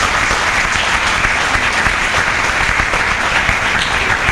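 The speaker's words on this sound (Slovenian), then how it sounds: "Jaz mislim, da se Konjičani zaslužijo mali aplavz za to." Loud, dense applause from a large audience at a talk about a round-the-world flight, continuous many-handed clapping filling the whole stretch with no talk over it.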